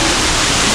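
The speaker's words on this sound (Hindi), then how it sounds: "मैं देखता हूँ ये वाटरफॉल, ये देखिए बहुत ही खूबसूरत है ये वाटरफॉल।" Bakthang Waterfall in Gangtok, Sikkim, pours with a loud, close, continuous rushing hiss of falling water, dense and unbroken for a brief moment.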